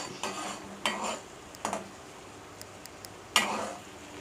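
Jaggery syrup being stirred in a pan until it reaches single-thread consistency, with a few faint scraping strokes and light sizzling spaced a second or so apart, quiet and close.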